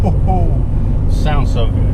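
A Mitsubishi Evo 4 engine runs through a Fujitsu catback exhaust with a loud, close, steady low drone, heard from inside the car. A voice talks briefly over it.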